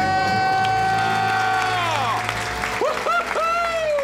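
A couple scream and cheer loudly together after becoming debt-free: a sustained shout followed by rising whoops and cries, close and energetic, with crowd-like applause.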